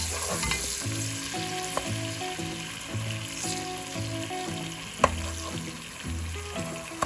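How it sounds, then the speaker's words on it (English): Onions frying in rapeseed oil at medium-high heat for a chuck roast stew: a steady, close sizzle with occasional stirring clicks, and no voices. "Here's the delicious onions with some rapeseed oil."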